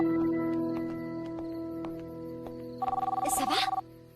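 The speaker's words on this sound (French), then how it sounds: "Je vais répondre au téléphone" A telephone rings indoors with one short burst of rapid electronic trilling near the end, heard after a quiet stretch with a low steady hum.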